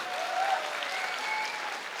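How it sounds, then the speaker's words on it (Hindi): An audience at a public speaking event in Lucknow gives a round of applause to honor the company founder, with dense, steady clapping throughout and no talking. "एक जोरदार तालियां होनी चाहिए गुरुजी के लिए।"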